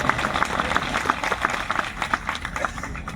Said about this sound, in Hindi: अरविंद नेताम साहब, इनका जोरदार तालियों से स्वागत कीजिए